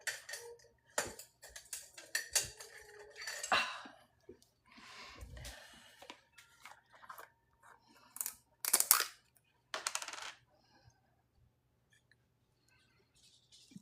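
A metal spatula scoops and spreads foil medium on journal cards, making intermittent close scrapes, ticks and clicks in irregular bursts, with quiet gaps between them.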